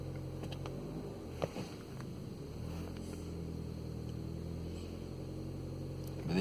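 Vauxhall Vectra C with a 1.8 engine that cuts out and restarts hard, idling steadily close by with a low, even hum and a faint brief knock partway through.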